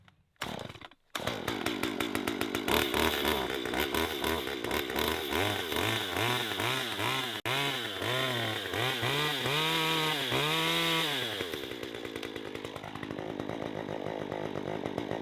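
A small, inexpensive top-handle chainsaw bought on Amazon cuts through wood, its loud engine holding a steady buzzing drone with repeated rising and falling revs as the chain bites, running throughout after a brief start.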